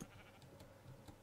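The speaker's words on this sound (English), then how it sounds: "Oh, is that the sheep that, like, we haven't seen for, like, ages?" A sheep in the video game Minecraft lets out a faint, brief bleat over quiet background, with no talk.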